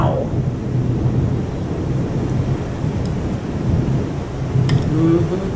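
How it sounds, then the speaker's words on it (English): Heavy rain pours down in a continuous dense hiss, with low rolling thunderstorm rumbles underneath and a faint voice now and then. "It's definitely raining. Yep. Raining buckets, man."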